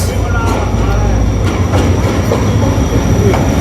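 The 27 Up Shalimar Express runs on the main line in Pakistan between Multan and Lahore, a loud, steady onboard rumble with rhythmic wheel clatter and faint squeals, and a voice shouting underneath.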